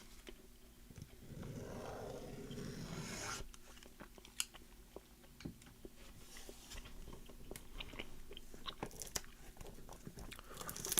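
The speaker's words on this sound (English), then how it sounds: "I'll just put a piece of gum in." Gum being chewed close to the mic in a whispered ASMR session, with soft repeated wet smacks and clicks, steady and intimate throughout, no talking.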